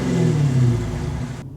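A Dodge Challenger R/T Scat Pack with a 6.4L V8 and six-speed manual revs loudly and up close in track mode, a deep, rising growl held for over a second before it cuts off sharply.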